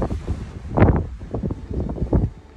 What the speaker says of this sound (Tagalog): Grabe lakas ang hangin